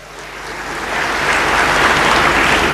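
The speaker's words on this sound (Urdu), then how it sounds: "خواتین و حضرات، آپ کی بھرپور تالیوں میں فیڈرل منسٹر احسن اقبال صاحب" An audience at a formal youth event in Pakistan claps loudly to welcome a federal minister, dense sustained applause swelling and holding steady, with no talk over it.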